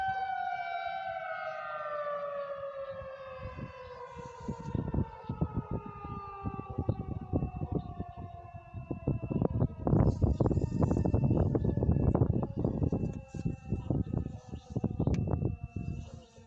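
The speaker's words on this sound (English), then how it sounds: "That was the Van Wert, Ohio Civil Defense Emergency Siren Test here in Van Wert." A civil defense emergency tornado siren test in Van Wert, Ohio: a loud, sustained wail slowly falls in pitch while dense, rapid clattering and thumping noises pile up over it.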